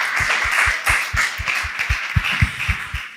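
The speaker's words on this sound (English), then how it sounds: "Please give him a round of applause." Steady applause from a panel discussion audience at a medical expo, a close, even wash of clapping with soft low thumps recurring underneath.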